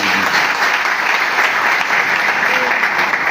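Crowd applause at a Concorde Nationale political rally in Abengourou: loud, dense, sustained clapping without a break for over three seconds.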